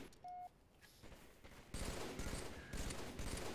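Halo 3 gunfire in dense bursts, quiet at first and then louder, with a couple of short electronic beeps early on and no voices.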